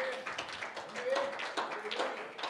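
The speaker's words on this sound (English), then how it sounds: "Why don't you clap your hands to the Lord right now?" A church congregation claps their hands together in a steady, dense rhythm, with voices and music carrying over the clapping.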